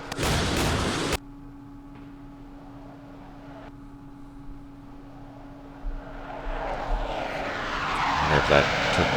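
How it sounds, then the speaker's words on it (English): An aircraft on an airstrike run in the Middle East war game Campaign Series Middle East: faint at first, then a rising engine roar that swells loud toward the end, after a brief burst of other noise at the start. "Here comes an airstrike."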